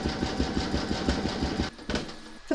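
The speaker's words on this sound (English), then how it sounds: "You're now going to stitch round number 18, and that's the satin stitching, and that will go around the border of the eggshell." Embroidery sewing machine satin stitching a border around an eggshell shape on Easter chick bunting, a fast even mechanical rattle close up that stops briefly near the end and then restarts.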